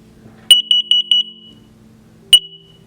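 An X-Sense smoke and carbon monoxide alarm sounds during a test, giving a sharp high-pitched chirp followed by a quick run of beeps, then one more chirp after a pause, close and loud over a quiet room.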